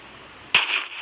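A single sharp toy gunshot during a one-on-one-on-one gun war game, one sudden loud crack with a short ringing tail.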